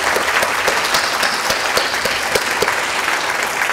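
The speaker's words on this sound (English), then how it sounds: "let's have a huge round of applause for all of you." Audience applause at a symposium welcome session: dense, steady clapping from a large crowd filling the room throughout, with no voices over it.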